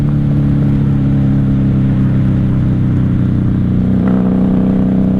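A 1994 Honda Magna VF750C 750 V4 motorcycle with open exhaust drones loudly and steadily up close, a thick low rumble with a brief rise in revs near the end.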